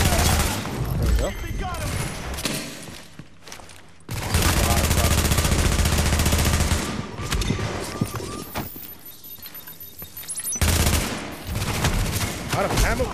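Gunfire in The Division video game comes as dense, loud bursts of automatic shots in a sustained firefight, with brief lulls between volleys and a player talking over it.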